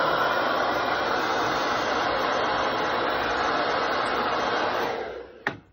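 A hair dryer blows steadily and loudly at close range during a makeup session, then switches off near the end with a brief click.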